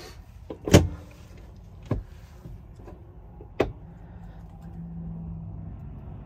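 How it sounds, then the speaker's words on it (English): The cab door of a 2022 Freightliner Cascadia 126 truck shuts with a loud, close thud on a cold day, followed by a couple of lighter knocks and then a low, steady rumble. "Let's close the door"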